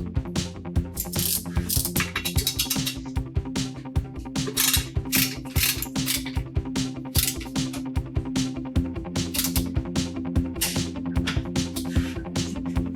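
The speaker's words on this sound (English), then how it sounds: "These will get torqued to 18 foot-pounds." A torque wrench ratchets rapidly as bolts on a 2022 Toyota Tacoma passenger seat are tightened to 18 foot-pounds, a dense, continuous clicking close up and loud, with no talking.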